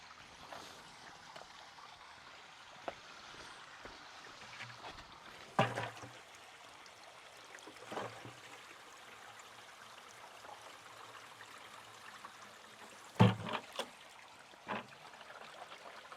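Water from a small stream flows and trickles steadily, fairly quiet and constant, with a few louder splashes or knocks partway through and no talking.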